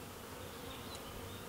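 Honeybees hum steadily around an open top bar beehive in May, a dense, even drone held close for the whole moment with no voices.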